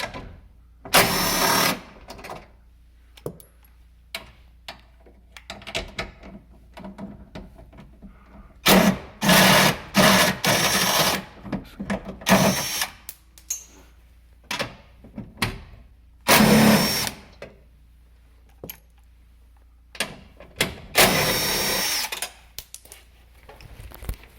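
Repeated short bursts of a power tool spinning out 11 mm bolts from the window regulator inside a 2009 Mustang door, several loud whirring runs separated by quieter clicks and handling noise.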